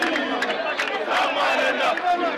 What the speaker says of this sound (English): protesters, with priests walking amongst them, clapped and chanted.